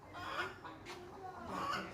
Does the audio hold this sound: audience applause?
no